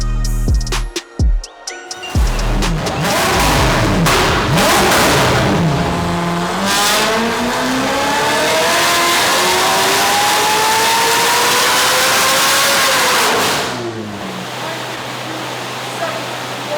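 The engine of an Aston Martin DB12 revs hard on a dyno in one sustained pull. A loud, rising roar holds for about ten seconds before cutting off, with some brief noises before the pull begins.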